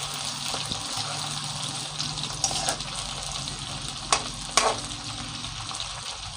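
Village-style chicken curry with onions and curry leaves bubbles and fries in a pan, a constant close sizzle broken by a few sharp spoon knocks and scrapes against the metal.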